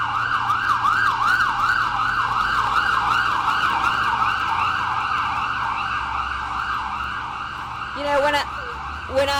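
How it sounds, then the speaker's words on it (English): An ambulance siren wails continuously in a rising and falling pattern, steady and fairly loud over traffic noise, with a short horn-like blast near the end. "I think this is my ambulance coming."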